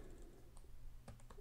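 Keys typed on a computer keyboard while coding a ReactJS input, a few quick clicks in a short burst over a low steady background hum, fairly close.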